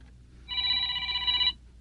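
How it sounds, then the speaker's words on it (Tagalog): A cellphone rings with a bright electronic tone of steady stacked pitches, one continuous burst of about a second, fairly loud over a quiet background with no talking. "May tumatawag sa cellphone ko."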